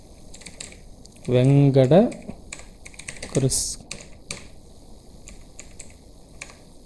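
Keys click softly and sparsely on a computer keyboard while a name is entered for an online IRCTC train ticket booking. Someone speaks briefly over the quiet keystrokes.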